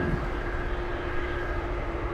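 Steady broadband roar of a Boeing 747 jet at Anchorage airport in gusty wind, a continuous engine drone with a faint sustained tone, holding even loudness throughout with no talking.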